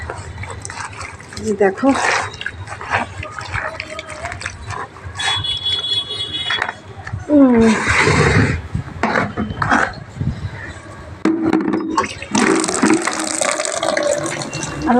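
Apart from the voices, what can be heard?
water filling a bucket to soak laundry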